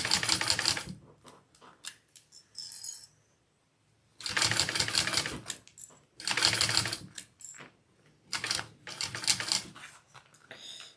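A sewing machine stitches piping slowly around curved edges in bursts of rapid, loud mechanical clatter, separated by quiet pauses and lighter ticks and clicks.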